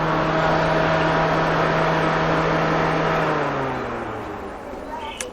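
A used car's electric radiator fan runs at high speed, a loud, steady whir with a constant hum that winds down slightly near the end.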